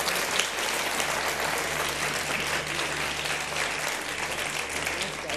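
An audience claps steadily and fully to welcome actress Zeba Bakhtiar onto a television show stage, a dense, even wash of many hands that holds for several seconds with no voices breaking through.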